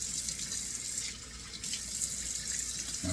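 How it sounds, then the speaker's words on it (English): Cold water runs steadily from a bathroom tap into a sink, a continuous close hiss and splash lasting throughout with no talking. "Let me turn on cold water."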